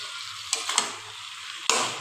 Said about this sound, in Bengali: এই দেখো ভালো করে এইভাবে নেড়ে চেড়ে ভালো করে চিকেনগুলোর মধ্যে ভালো করে গায়ে লাগিয়ে নিতে হবে